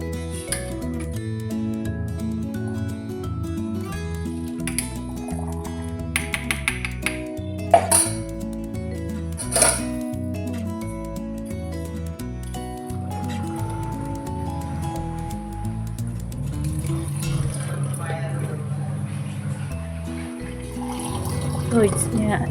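Freshly made milk tea being strained and poured in a home kitchen, with light clinks of glass and metal and a soft liquid pour under steady background music, a voice talking over it.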